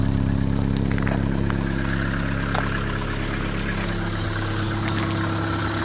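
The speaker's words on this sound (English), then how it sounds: "That's a cold start diesel." A 1984 Mercedes-Benz 190D diesel idles just after a cold start, a steady close-up clatter with a low rumbling drone that stays even throughout, with no talk over it.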